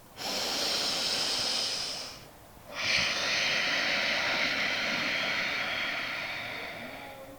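Deep breaths during a yoga pose: a long airy exhale, a brief pause, then another long breath, close and fairly loud, with no talking.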